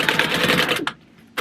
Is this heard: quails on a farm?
no